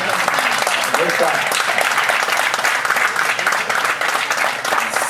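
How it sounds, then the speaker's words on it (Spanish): A church congregation stands and applauds, dense continuous clapping filling the room with cheers and voices mixed in throughout. "Les vamos a dar un aplauso cuando empezamos"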